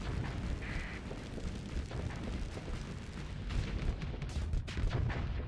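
Spaceship weapons fire in the Starsector video game as a dense series of booming, rumbling shots and blasts over a continuous low roar.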